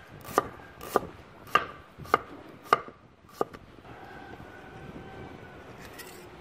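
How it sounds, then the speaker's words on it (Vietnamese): Knife slicing shallots thinly on a cutting board: six crisp chops at a steady rhythm, then quiet room tone with a faint background hum. "Đầu tiên mình sẽ lấy hành tím cắt lát mỏng hết."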